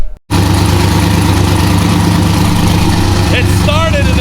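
The engine of a Chevrolet El Camino 4x4, fitted with a new exhaust, catches and settles into a loud, steady idle right after a brief silence, close to the microphone, with a few faint chirps near the end.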